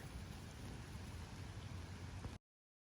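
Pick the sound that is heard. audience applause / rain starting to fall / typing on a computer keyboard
rain starting to fall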